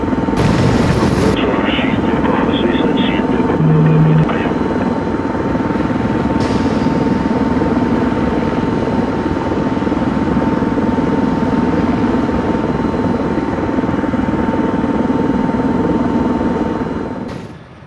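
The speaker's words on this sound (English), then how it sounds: "Let's take a quick look at the uh, Ukrainian attack helicopters here coming in" Ukrainian attack helicopters approaching through valleys in the Arma 3 video game, a loud, continuous rotor drone with a steady hum, holding constant before cutting off at the end.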